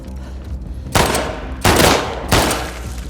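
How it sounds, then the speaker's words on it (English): A hunting rifle fires three loud, sharp gunshots in the video game The Last of Us Part 2, spaced evenly about 0.7 seconds apart, each followed by a brief decaying tail. "It's like a hunting rifle."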